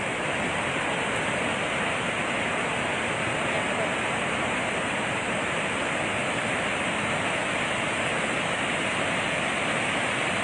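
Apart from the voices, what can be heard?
water rushing released from Magat Dam spillway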